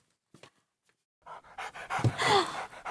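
A dog panting rapidly and audibly close by, after a few faint soft sounds, the quick breaths building over the final second and a half.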